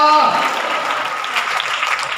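A congregation claps together during a Hindi-language sermon on baptism preparation, a short burst of dense, even clapping that starts just as a voice trails off and continues steadily.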